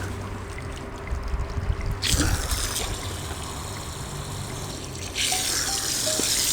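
Water gushes in bursts through a BMW engine radiator under pressure, a hissing, rushing flow that surges, pauses, then surges again loudly up close.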